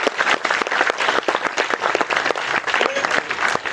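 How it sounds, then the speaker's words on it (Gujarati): An audience at a speaking event applauds a speaker with dense, loud, continuous clapping from many hands, filling the whole stretch without pause. "આપણે એક વખત વધારે એમના માટે તાળી પાડી"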